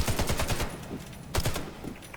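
Rapid bursts of ZX84 machine gun fire in the video game Warface, two loud sustained volleys of automatic shots with a short pause between them, no talk.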